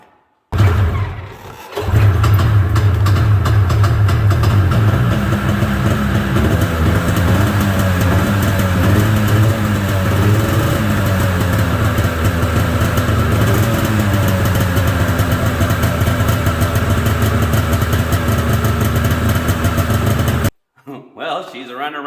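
A flooded Ski-Doo Safari 377 snowmobile engine runs steadily after starting, a loud, close two-stroke drone with an uneven idle that holds for about twenty seconds before cutting off.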